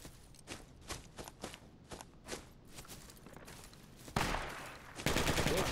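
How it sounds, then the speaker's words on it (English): Enemy gunfire in the Project Reality war game, a scatter of sharp shots and short bursts, some distant, then two loud sustained bursts of fire near the end. "They're firing at us from south."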